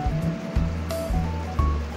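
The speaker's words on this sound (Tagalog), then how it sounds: "ngayon is nag-fill up na siya ng tubig para mag-start na siya magbanlaw" Condura top-load automatic washing machine filling with water for the first rinse, a steady rushing, surf-like pour with low churning pulses and a faint mechanical whine, fairly close and continuous.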